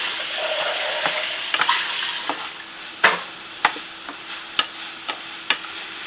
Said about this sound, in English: we're going to fry this rice up a little bit now